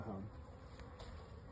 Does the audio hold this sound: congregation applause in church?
no